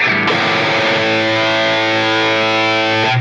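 A heavily distorted electric guitar chord through a Swedish Chainsaw effect on an HX Stomp rings out loud and sustained, starting abruptly and holding with a thick, buzzing saturation.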